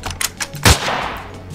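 A single sharp gunshot from the Weapons Simulator PC game fired on an outdoor range with trees at set distances, loud and close, followed by a short echoing tail and no talking.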